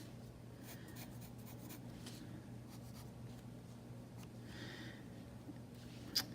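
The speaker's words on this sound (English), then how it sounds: "Sketch these in lightly first before I darken these lines." A pencil sketches light lines on paper for a portrait drawing of hair, quiet scratchy strokes in short close bursts over a low steady hum.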